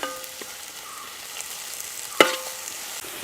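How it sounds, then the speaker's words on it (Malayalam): Ten small shallots sautéing with a teaspoon of salt in a pan for a Kerala-style mutton curry, a steady close sizzle with one sharp clink of a utensil against the pan midway. "ഇനി നമുക്ക് ഇതിനകത്തോട്ട് 10 കൊച്ചുള്ളി ഇട്ട് കൊടുക്കാം. 1 ടീസ്പൂൺ ഉപ്പിട്ട് വഴറ്റാം."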